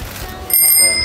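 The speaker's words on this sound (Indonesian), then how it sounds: "Ini mau pasang bel." A newly fitted bicycle bell is rung once, a bright, loud, close metallic ding that rings on with a clear shimmering tail.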